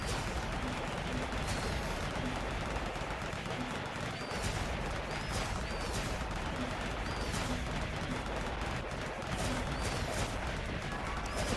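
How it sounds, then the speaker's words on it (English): Missiles fire in the video game Core Keeper, repeated blasts and explosions at a fairly regular pace over a dense, constant wash of game noise. "I can just shoot them with missiles"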